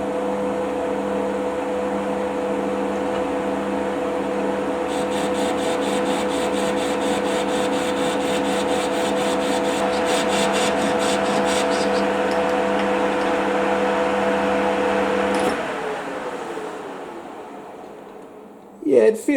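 Tungsten carbide tool taking light cuts on a ballscrew in a lathe, a steady machine hum with a rasping, scraping cutting sound that fades as the machine winds down, followed by a brief clunk at the end.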